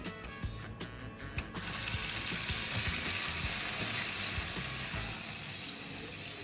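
Butter melting with olive oil in a pan preheated over medium heat in a kitchen, starting as soft clatter and then rising into a loud, steady hiss and crackle that carries on to the end.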